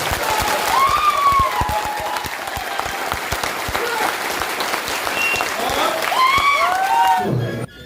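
An audience at a motivational leadership meeting gives sustained, loud applause with some cheering, while a voice speaks over the clapping before it cuts off abruptly at the end.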